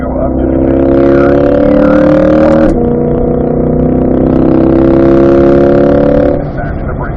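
A 2020 Chevrolet Corvette C8 accelerates on a race track at Spring Mountain, its engine climbing steadily in pitch, with a brief break at a gear change before pulling up again, while someone talks over it.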